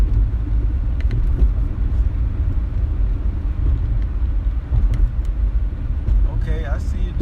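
A car engine rumbles steadily from inside the cabin while driving, a continuous low drone with road noise, heard under casual conversation between passengers.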